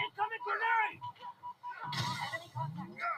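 A Cinder Shot weapon fires in a Halo video game, a sudden loud burst of gunfire and explosion that comes in after a stretch of speech-like game chatter and keeps rumbling to the end.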